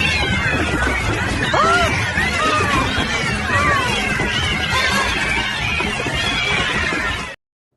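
A cat meows several times in a busy room, its calls rising over steady babble and background noise, with people talking throughout.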